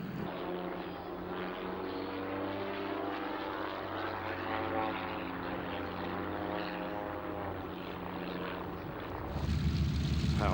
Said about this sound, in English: 550 horsepower Pratt & Whitney engines, the Harvard is a high-performance World War II training aircraft